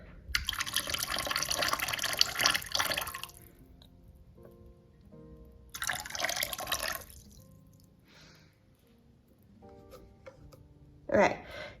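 Rit dye fixative poured from a bottle into water, heard as bursts of liquid splashing and trickling close by, separated by quieter gaps with speech in between.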